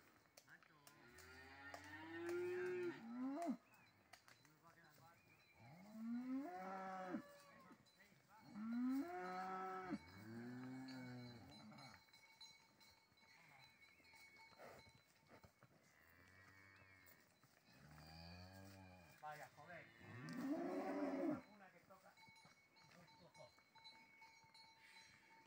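Several long, deep moos from cattle, including a bull, spaced apart over a quiet background, with a few faint voices and occasional livestock noises between calls as the herd is moved.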